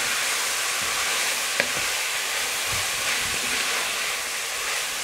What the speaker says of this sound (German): Jetzt werden die Zwiebeln angeschwitzt.